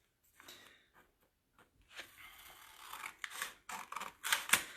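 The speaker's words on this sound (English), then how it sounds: "I've got a line on the back that I can just follow with my scissors" Scissors snip through a vinyl transfer in a series of crisp, close cuts, sparse at first and then quicker and louder, with no voices.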